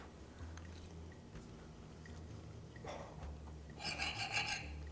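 Someone chews a mouthful of bourbon and guajillo oxtail enchiladas close up, giving faint, soft wet chewing and rasping mouth sounds with a couple of short louder bursts near the end.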